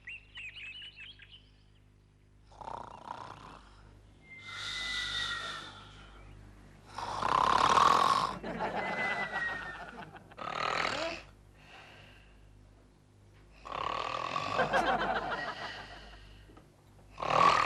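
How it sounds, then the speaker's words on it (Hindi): Loud snoring from a sleeping man in a Hindi comedy scene, several long rasping breaths separated by pauses, close and prominent with some whistling tones. "केशु, ये कितने जोर से खर्राटे भर रहे हो तुम?"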